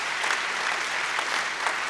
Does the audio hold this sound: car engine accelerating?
no